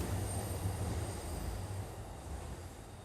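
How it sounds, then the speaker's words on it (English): A train pulling in on elevated tracks in Akihabara, Tokyo, a steady loud low rumble with a faint high whine, continuous and fading slightly toward the end, no voices. "Really noisy, the train coming in right now."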